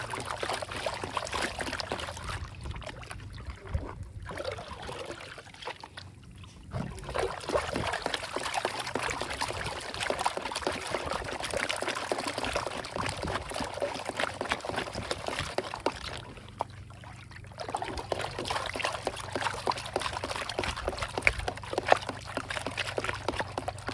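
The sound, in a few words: washing gravel in a gold pan with river water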